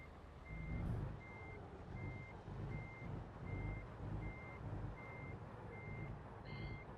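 Reversing beeps from a truck in American Truck Simulator, a steady run of evenly spaced high electronic tones over a low diesel engine rumble, with no talking.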